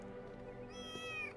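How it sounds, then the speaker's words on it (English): A cat in a VR video game lets out a single drawn-out meow that rises in pitch, faint and alone, with no one talking over it. "Where's the cat? Is there a cat over here?"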